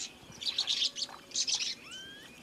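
Small finches in the Galapagos chirp in quick bursts of high, bright notes while bathing, followed by a rising whistled call, fairly close with soft background hiss.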